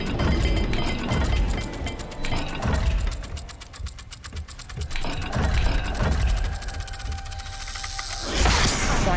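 In Hogwarts Legacy, a puzzle dial turns with a dense, fast ratcheting click of gears that rises and eases in bursts, with a low game rumble underneath.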